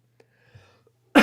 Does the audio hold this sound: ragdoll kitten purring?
no